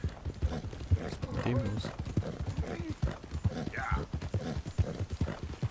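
Horse hooves clip-clop in a steady trotting rhythm in Red Dead Redemption 2, close and distinct, with someone speaking briefly over the hoofbeats.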